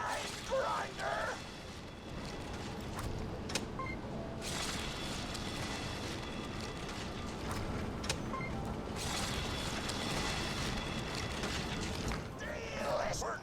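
A grinder machine in the video game Borderlands 2 runs with a continuous, fairly loud mechanical churning, with sharp clanks and ratcheting knocks scattered throughout and faint voices underneath.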